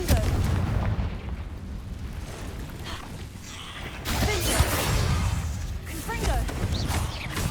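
Confringo blasting spells go off in the video game Hogwarts Legacy, sending loud, rumbling blasts and crackling bursts through a cave, over a steady low roar, with a voice speaking in between.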